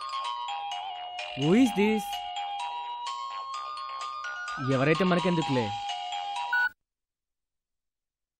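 A mobile phone ringtone plays a bright, repeating melodic tune at moderate volume, broken twice by brief speech from a woman in a Telugu TV drama scene, then cuts off abruptly into silence.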